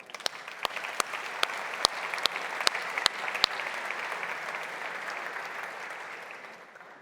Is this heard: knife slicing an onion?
no